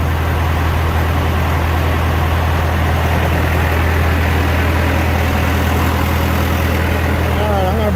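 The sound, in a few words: John Deere 450 engine running during break-in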